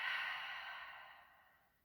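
A slow, soft exhalation during a children's yoga session, a single airy breath out that gradually fades.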